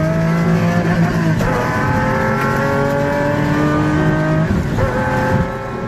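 A Pagani Zonda C12 supercar engine howls through rising, sweeping revs, loud and close, with a sharp shift in pitch midway and another near the end before tailing off.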